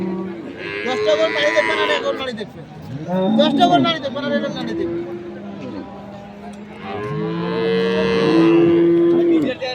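Dairy cattle moo repeatedly in long, drawn-out low calls, fairly close, with people talking in the busy background of a cattle market in Thakurgaon, Bangladesh.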